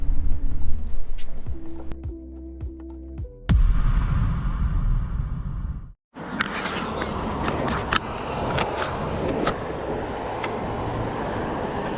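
A Currus NF electric scooter in motion, with a steady motor whine and rolling rumble that cuts out briefly, then returns as a rough, continuous roar of road and wind noise.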